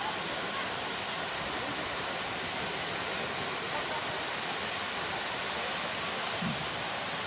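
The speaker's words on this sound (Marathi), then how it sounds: "आलो आहे आपण धबधब्याजवळ." Askhed Kund waterfall, a hidden pool near Pune, roars as a steady, dense rush of falling water heard up close, constant and unbroken throughout.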